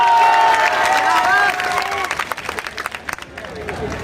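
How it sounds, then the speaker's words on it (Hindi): Crowd at an election rally for the Bihar assembly polls in Majorganj, clapping and cheering in a broad wash that starts loud and thins out, with a speaker's voice and babble mixed in. "अगर आप लोग की सहमति हो तो ताली बजा करके इसका भी मांग स्वीकार कर"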